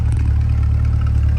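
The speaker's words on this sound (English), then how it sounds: "your exhaust at idle, sounding great" A 2023 Corvette Convertible 3LT Z51 sits at idle, its exhaust giving a close, loud, deep steady rumble with a fast even pulse and no talk over it.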